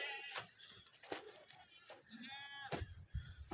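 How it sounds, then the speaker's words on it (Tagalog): Goats on a farm bleating repeatedly, several short wavering calls close by at irregular intervals, with faint background noise between them. "Yung kambing ko pagka ako'y nakita talagang mimi sila ng mimi."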